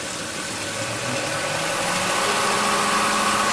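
A wood lathe turning a carrot wood vessel, spinning up to about 1200 RPM, gives a steady broadband whir that grows gradually louder and fuller as the speed rises, with no voices.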